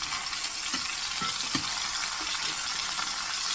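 Chicken and vegetables sizzle steadily in a hot skillet, a dense constant frying hiss with soft scraping and stirring knocks as the pieces are pushed around, close up and without speech.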